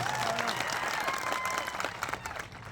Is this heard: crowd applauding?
yes